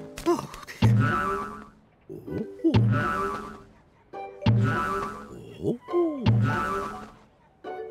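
Cartoon trampoline bouncing, with four springy boing sounds at an even rhythm, each a quick rising twang followed by a short tail, loud and close with brief gaps between.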